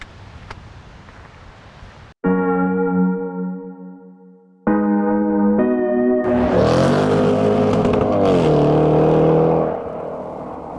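A 2021 Jaguar F-Pace SVR engine idles, then revs hard through rising gears, a loud close whine climbing and settling as the SUV pulls away.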